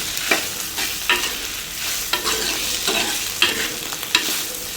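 Onion, dried red chilli and garlic sautéing in a hot pan for a spicy Chintamani chicken, with a steady close sizzle broken by several scraping stirs of a spatula, and no voices.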